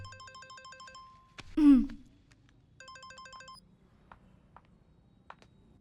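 An electronic phone ringtone plays in repeated beeping bursts, interrupted by a short loud thump, then rings again before fading into soft ticks.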